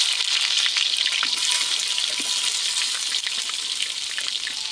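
Sliced onions and a kilo of beef sizzle in hot oil with fennel seeds for a village-style curry, a continuous bright crackling hiss, close and steady throughout with no voices.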